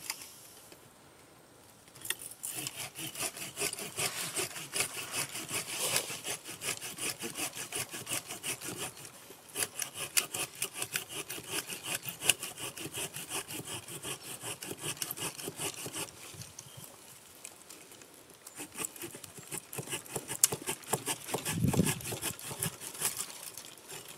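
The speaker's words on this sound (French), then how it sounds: "je vais prendre la scie à ébrancher pour éliminer celle qui gêne" A pruning saw rasps steadily through a plum tree branch in quick repeated strokes, close and loud, with a brief pause partway and a few snaps near the end.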